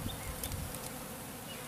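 A swarm of honey bees at a top bar hive fills the air with a dense, continuous buzzing drone, close and steady throughout, with no voices.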